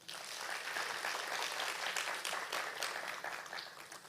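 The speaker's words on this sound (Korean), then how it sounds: "박수하시겠습니다" A church congregation applauds during a Friday prayer meeting sermon, broad sustained clapping filling the room at a moderate, fairly distant level with no talk over it.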